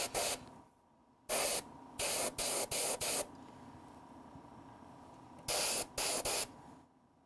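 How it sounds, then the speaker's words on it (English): Short hissing bursts of Nuln Oil from a spray can, one long spray, then four quick pulses and three more near the end, close and fairly loud against quiet room tone. "spraying Nuln oil on something that's like already pretty dark is it's really hard to see where I've already sprayed"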